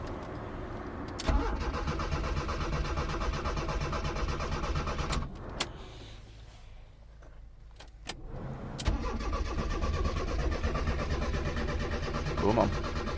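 A car engine cranking repeatedly in bursts, pausing, then cranking again as it struggles to start, close and loud with a voice talking over it.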